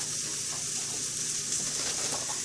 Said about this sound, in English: the longest part of the whole process, is sauteing these veggies up